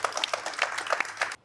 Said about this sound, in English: Why don't you guys give Charlie Kirk a nice round of applause?